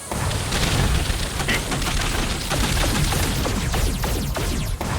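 Continuous dense booming of ship cannons firing in Cat Quest 3 rumbles under a noisy, chaotic battle soundscape, with no clear pauses.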